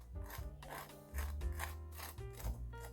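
Crisp, scratchy crunching strokes as a knife saws through crusty salted egg yolk lava French toast, several short rasps in a row, close and fairly quiet.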